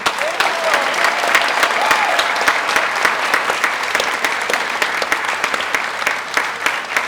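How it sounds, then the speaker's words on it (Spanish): Sustained applause from a crowd at the end of a theater play, dense and steady, with some cheering voices rising briefly above the clapping. "Un applauso más grande per lei, Sedmir."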